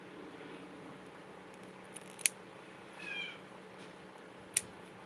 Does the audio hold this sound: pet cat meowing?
yes